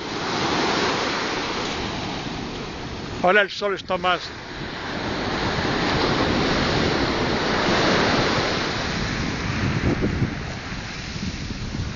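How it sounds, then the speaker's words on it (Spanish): Ocean waves break steadily on Playa del Saler beach in Valencia, Spain, with a continuous roaring surf and wind buffeting the microphone, and someone briefly speaking Spanish over it. "Esas olas que se rompen ahí,"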